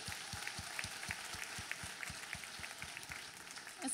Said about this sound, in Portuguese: Aplaudir